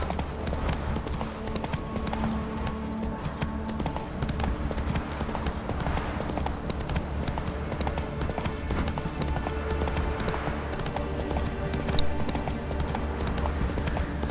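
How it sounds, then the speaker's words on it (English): Steady gallop of a horse's hooves from The Witcher 3: Wild Hunt, a continuous rapid clip-clop rhythm over a dense game soundscape, loud and unbroken throughout. "Whoa there, Roach."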